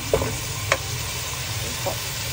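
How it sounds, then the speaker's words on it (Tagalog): Chicken pieces browning in a pan with a little oil for kinamatisang manok, giving a continuous close sizzle broken by a few sharp stirring clicks. "Brownin muna natin guys ang ating chicken para masarap siya tingnan pag brown."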